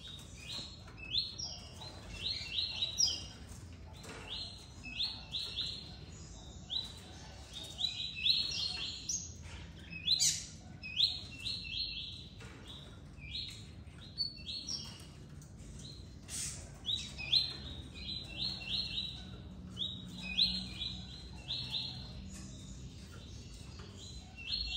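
A pet tuí-tuí parakeet in its cage chirps and sings in bursts of quick, high, thin twitters throughout, fairly faint against a quiet room background, the calls clustered into short phrases with brief pauses between.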